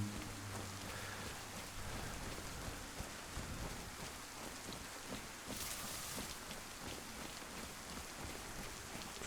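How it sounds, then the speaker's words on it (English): Steady, dense rain hiss falls throughout in the DayZ survival game, a continuous broadband wash of drops with no talk and a faint low rumble beneath. "The rain is helping muffle our footsteps"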